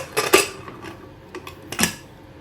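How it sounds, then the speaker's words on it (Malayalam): A pressure cooker lid being closed in a home kitchen during vegetable biryani cooking, heard as a few close metallic clanks and scrapes in quick succession with no talk. "കുക്കറിൻ്റെ മൂടി അടച്ചു കൊടുക്കാം"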